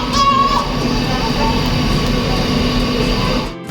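Steady train rumble and rail noise inside a Swiss passenger train near Engelberg, continuous and fairly loud throughout with a faint tone early on, easing off at the very end.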